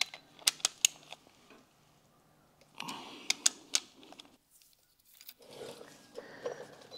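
A torque wrench clicking as transmission rear cover bolts on a ZF gearbox are tightened to 22 foot-pounds: two quick bursts of sharp close clicks separated by quiet pauses, with faint rustling of tools in between.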